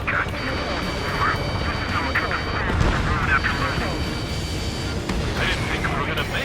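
Gunfire and explosions roll through an F-15E Strike Eagle combat game, with dense, steady battle noise and sharp bursts over a low rumble, under radio chatter.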